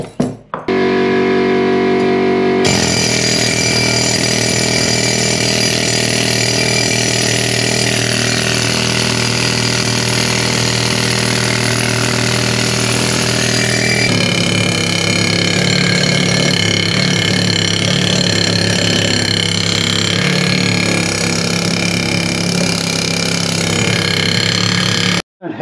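A power tool grinds and descales a rusty boat trailer, a loud continuous whine and buzz that shifts in pitch and load as it works the metal, with no talk.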